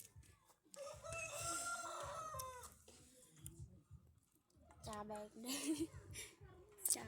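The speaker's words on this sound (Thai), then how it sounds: "ไก่กำลังขันทุกคนเลย" Roosters crow at dawn in a Lao hillside village, several long calls near and farther off with clucking between, while someone talks over them.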